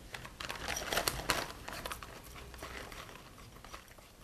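Soaked rice, drained in a sieve, is crushed inside a plastic bag with a wooden rolling pin for baby rice porridge, giving steady crinkling and crunching plastic sounds with irregular soft thumps, close up and without talk.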